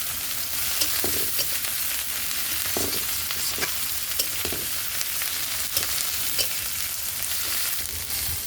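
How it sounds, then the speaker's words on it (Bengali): Cut potatoes sizzle and fry in spice masala in a pan for crab bhuna, a steady broadband hiss with occasional spatula scrapes and stirs, loud and close, with no talking. "এখন মশলাতে কেটে রাখা আলুগুলো দিয়ে ভেজে নেওয়ার পালা"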